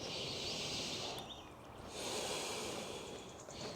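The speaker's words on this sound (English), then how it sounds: "Breathe in." A long, deep inhale through the nose during a hip-opening yoga flow, close and breathy, swelling over nearly four seconds with a steady airy hiss and no talking.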